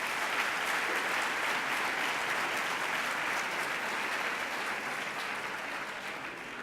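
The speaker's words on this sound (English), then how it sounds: "I want a special round of applause for them because they are so special" Sustained, even applause from a large congregation at a Jewish community gathering in Mexico, honoring the youth group leaders; a steady wash of many hands clapping, easing slightly toward the end.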